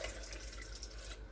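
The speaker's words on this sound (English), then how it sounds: "So I'm putting my hot water" Hot water pours steadily into a bowl for strawberry gelatin, a soft continuous splashing rush throughout, close and fairly quiet, with no talking.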